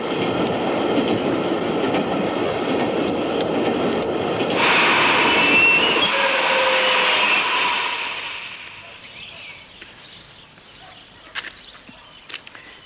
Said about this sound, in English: Bankers' train's the Crack Express on the Potsdam line.